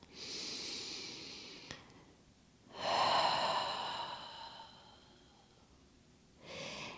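A slow, deep breath taken during an intense yoga psoas stretch: a long airy inhale, a pause, then a stronger exhale, with the start of another breath at the end, close and quiet with no talking.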